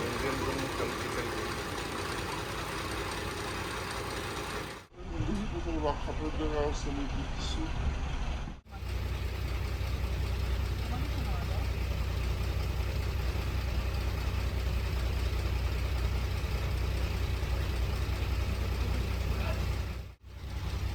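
A river launch's boat engine idles in its cramped engine room, which doubles as a kitchen, on a Sundarbans trip: a steady, loud, droning rumble that runs the whole time under occasional talk.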